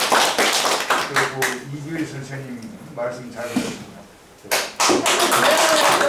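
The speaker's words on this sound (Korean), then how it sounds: "강의에 감사하는 마음으로 박수 치고 마치면 되겠습니까?" Audience clapping after a lecture at a Busan professors' association general meeting: bursts of brisk, close claps, then someone speaks over a lull before the clapping swells loudly again.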